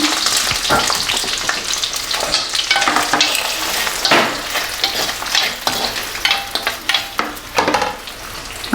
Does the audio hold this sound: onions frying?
yes